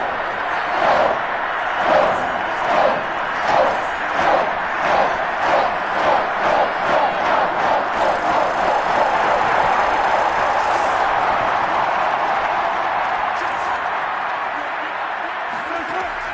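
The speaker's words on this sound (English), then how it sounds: "the crowd getting into it as we come up on a big 3rd down" A loud stadium crowd cheers and roars in an American football video game on PS5, swelling in rhythmic surges ahead of a big third down, with a commentator talking over it.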